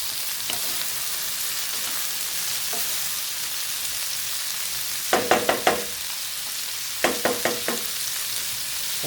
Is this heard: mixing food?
yes